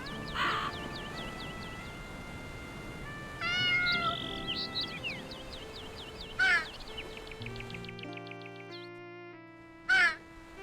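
Cats meow and caterwaul in a video game fight, with several drawn-out yowls and chirping cries. Two sharp, loud squalls break through near the middle and the end over a steady soft background, and nobody talks.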